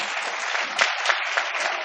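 Audience applause at a kavi sammelan poetry gathering in Surat, dense continuous clapping, loud and close, with a few sharper claps standing out.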